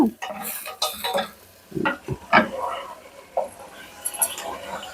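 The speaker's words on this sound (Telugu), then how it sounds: "ఇదిగోండి ఇది వేగుతుంది. టమాటాల కోసం అండి, టమాటా గ్రేవీ కోసం" Tomato gravy ingredients stirring and sizzling in a pan while frying, with a utensil scraping and clinking against the metal in irregular strokes, close and moderately loud, with a voice talking at times.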